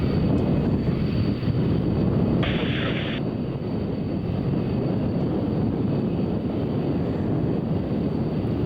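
Airplanes fly overhead in a loud, unbroken engine roar that rumbles steadily throughout, with no voices over it.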